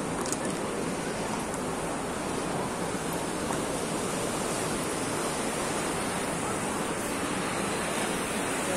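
Sea waves wash against a shore facing Kolaba fort, a continuous broad surf rush with some wind, steady and moderately loud throughout.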